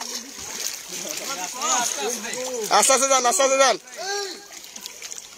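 Water splashes as people wade through floodwater during relief work, while a man repeatedly calls out loudly over the sloshing.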